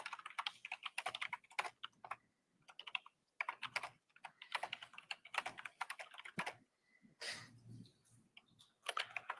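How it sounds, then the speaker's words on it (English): Fast typing on a computer keyboard in a courtroom during jury instructions, quick bursts of close clicking keystrokes separated by short pauses, with no talk. "Judge is a fast typer."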